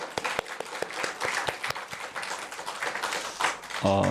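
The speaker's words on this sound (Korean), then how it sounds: "굉장히 비장한 얼굴로 박수를 치시네요" A church congregation at a New Year's Eve worship service claps, with scattered, distinct hand claps in an uneven rhythm at moderate volume, thinning toward the end.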